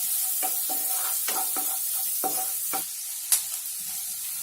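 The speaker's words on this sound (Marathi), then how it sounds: "बारीक चिरलेली लसूण घालणार आहोत. ह्याच्यामध्ये जरा परतून घेऊया नीट." Finely chopped garlic sautés in a hot pan for a restaurant-style sweet corn soup, giving a steady close sizzle broken by several sharp scraping stirs, then one brief louder clink near the end.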